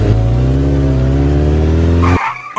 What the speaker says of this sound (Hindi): अब देख, मैं तुझे अपनी ये बाइक चलाकर दिखाऊंगा, देख।